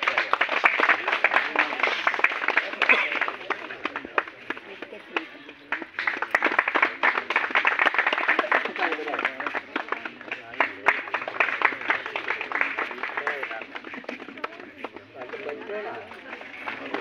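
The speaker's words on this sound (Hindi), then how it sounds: "और ताली भी बजाते रहे आप लोग।" Sustained crowd applause at a village council meeting, a dense wash of many hands clapping steadily for a long stretch, close and loud without pause.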